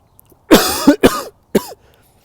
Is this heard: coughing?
yes